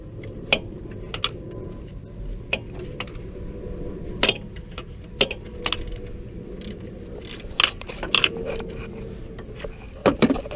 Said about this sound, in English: So now get a 12mm socket and loosen that bolt.